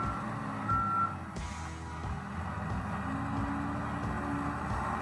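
A toy dump truck reverses in a kids' construction play scene, its backup beeper sounding a steady run of repeated electronic beeps over a low mechanical hum, close and fairly loud with no talking.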